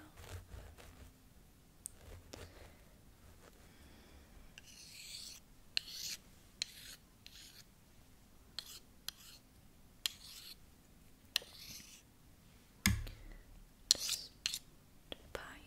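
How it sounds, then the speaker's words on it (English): Gentle scratching and rubbing along the surface of a scalp through hair during an ASMR scalp check, close and soft, with faint scraping strokes and scattered sharp little clicks and taps. "just scratching along the surface of your scalp"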